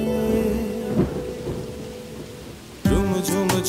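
Steady rainfall hisses alongside rolling thunder, with a sudden louder crack of thunder near the end and soft musical tones running underneath.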